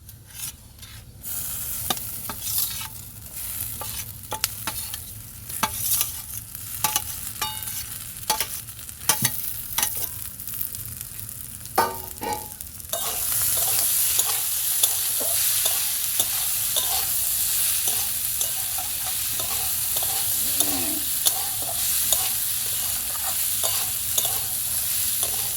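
A spoon scrapes and stirs fried potatoes and cashew nuts in a hot pan for chira pulao, with rhythmic rasping strokes over a soft sizzle that grows louder and more continuous halfway through.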